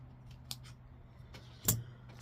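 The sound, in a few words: scissors cutting out a square piece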